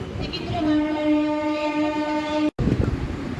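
An MEMU passenger train between Guntur and Vijayawada sounds a long, loud horn blast over steady running rumble, cut off abruptly, then the rolling carriage noise resumes.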